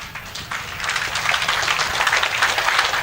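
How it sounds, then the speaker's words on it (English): Audience applause at the Nitto Tire Nationals awards dinner, a dense, steady round of clapping from a room of people that swells slightly and holds at a moderate distance. "Let's get a round of applause for that."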